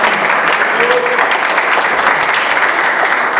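Church congregation applauding for the Lord, a dense, loud, steady wash of clapping from many hands filling the room with no talk.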